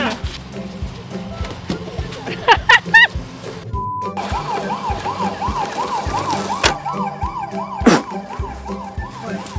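A small electronic ambulance siren wails in a fast up-and-down pattern, close and fairly loud, with plastic clicks and knocks around it.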